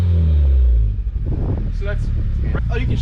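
A Honda Civic Type R FK8 with a blown-out stock downpipe and catalytic converter rumbles loudly at close range for about a second. It then drops to a lower drone beneath several people chatting.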